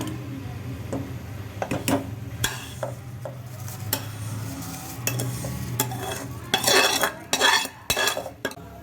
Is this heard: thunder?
no